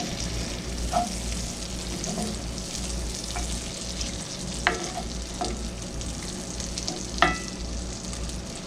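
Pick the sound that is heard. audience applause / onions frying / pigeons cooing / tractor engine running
onions frying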